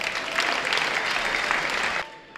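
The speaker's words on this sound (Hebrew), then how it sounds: "מגיע להם כפיים" At a thanksgiving evening for the families of reservist battalion 8130, a large audience applauds. The clapping is full and sustained, then cuts off abruptly near the end.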